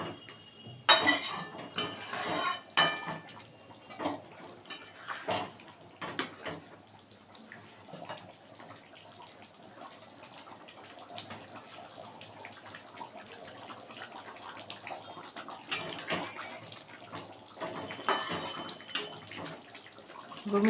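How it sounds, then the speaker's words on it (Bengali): Chicken curry with coriander leaves simmers in a pot, giving a steady low bubbling and watery hiss with occasional clinks of a utensil against the pot early on; close and moderately quiet, no talking. "দু মিনিট ফুটিয়ে নিলাম।"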